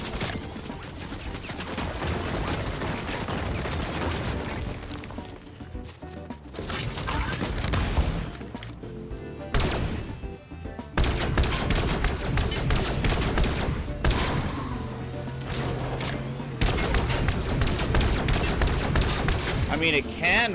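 Rapid bursts of laser rifle fire and chaotic gunfire crackle in Fortnite Season 3 build mode, loud and dense with brief pauses, while a player talks over the action.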